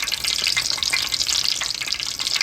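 Frozen chicken and corn croquettes deep-frying in oil, a bright, dense, bubbling crackle that holds steady and loud throughout, heard close with no one speaking.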